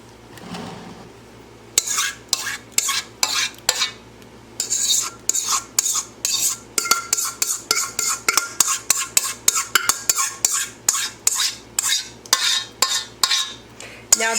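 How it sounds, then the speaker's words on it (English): Sweet potato casserole mixture is spooned into a casserole dish, giving a steady run of close, repeated metal-on-dish scrapes and soft clinks in a quick, regular rhythm without any talking. "Now, we're going to put this into our casserole dish."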